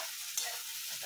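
Onions and tomatoes frying in a pan for pav bhaji, a soft steady sizzle with a brief stir scrape near the start, close and fairly quiet with no voices.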